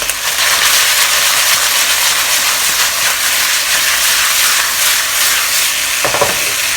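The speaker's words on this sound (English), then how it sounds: "Just pan fry them like this for 1 to 2 minutes." Chicken with thinly sliced red onion and spring onion whites frying in a pot for a one-pot Chinese-style chicken stew, a loud steady sizzle and hiss with a brief stirring clatter near the end.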